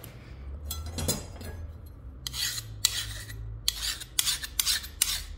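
A hand file rasps across untempered steel on a knife made from a plough disc, in a run of separate strokes that grow louder and scratchier. Each stroke is a harsh, bright scrape, close up, with short pauses between them.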